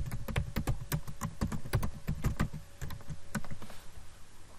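Rapid clicking keystrokes on a computer keyboard, close and crisp, come in an irregular burst of taps that slows and fades toward the end, with no speech.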